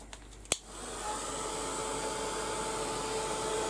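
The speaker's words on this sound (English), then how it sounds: "Right, I'm going to dry that now. Give that a quick blast" A hair dryer switches on with a click and then blows a steady, loud whooshing roar to dry a mixed media canvas, continuing evenly to the end.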